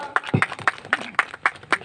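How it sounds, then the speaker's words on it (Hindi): An audience claps in regular, evenly spaced beats at a temple foundation-stone ceremony, with about eight distinct claps over two seconds, moderately loud and close. "जोरदार तालियां"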